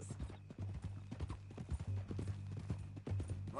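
Horse hooves clip-clop in a steady walking rhythm in the Western game Red Dead Redemption 2, close and clear, over a low droning background hum.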